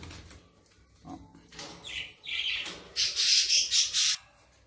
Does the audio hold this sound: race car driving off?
no